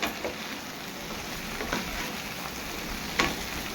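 Okra frying in a pan with poppy seed paste and chillies, a steady soft sizzle with occasional scraping stir strokes and a sharper clink near the end.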